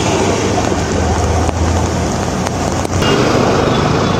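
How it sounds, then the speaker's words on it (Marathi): Heavy monsoon rain pours down steadily in Mumbai as a dense, continuous roar of downpour, loud and unbroken, with a few faint clicks and no voices. "सकाळपासूनच जोरदार पाऊस कोसळतोय।"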